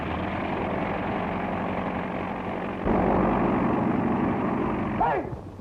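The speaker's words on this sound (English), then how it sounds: "You can't drive that plane." An airplane engine with a loose rudder valve drones and rumbles steadily in a 1931 film serial, grows louder about halfway through, then cuts off abruptly near the end.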